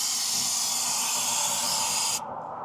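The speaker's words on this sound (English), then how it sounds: "A little bit of brake cleaner on everything." Brake cleaner sprayed from an aerosol can onto engine parts during an oil change, a steady loud hiss lasting about two seconds before stopping abruptly.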